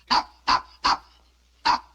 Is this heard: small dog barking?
yes